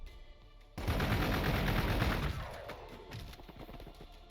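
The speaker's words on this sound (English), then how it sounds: "Bolter fire for the win, apparently." Bolter gunfire in the Warhammer 40,000: Gladius strategy game, a loud dense burst of rapid shots that starts abruptly, holds for over a second, then tails off into a fading rumble.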